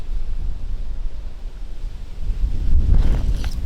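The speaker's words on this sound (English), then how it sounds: "This is the worst wind I've felt here" Strong wind buffets the microphone at an outdoor rifle range, producing a rough, low rumbling roar that swells louder toward the end.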